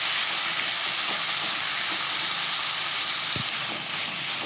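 Tomatoes and green chilies sautéing in a pan for roadside-style masala puri, giving a steady, even sizzling hiss that runs unbroken throughout with a faint low thump near the end.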